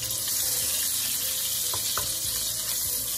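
Butter melts into two spoons of hot oil in a kadhai, giving a loud, continuous close sizzle with a few faint clinks and scrapes, no talking.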